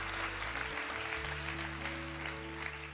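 A church congregation claps their hands in praise, a moderately loud, sustained wash of applause from many people filling the room.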